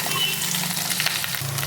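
Cut okra, wiped dry of moisture, fries in a kadai for a lady's finger masala, giving a steady, close hiss of sizzling oil with no voices.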